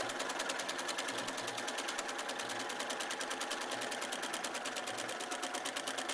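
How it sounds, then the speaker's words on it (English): A sewing machine stitches a decorative looping pattern around a quilt motif with heavy hand-dyed thread: a steady, rapid, evenly pulsing needle chatter that carries on without a break, close and alone. "I'm going to sew around the motif with a decorative stitch from my machine that makes little loop-de-loops with heavy hand-dyed thread."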